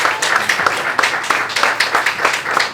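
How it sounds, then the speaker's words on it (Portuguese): An audience gives steady applause for Carmen Valdez, general coordinator of Casa da Favela, during a panel in Rio: dense, continuous clapping from a full room with a quick, even rhythm, close and fairly loud. "eu quero pedir uma salva de palmas mais uma vez"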